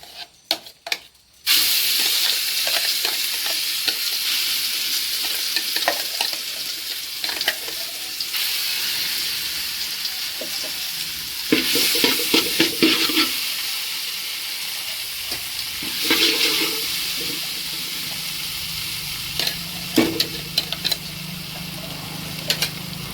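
Spice paste frying in a hot pan for a tapioca and clam meat dish, a loud continuous sizzle and hiss with repeated stirring scrapes and surges as ingredients go in.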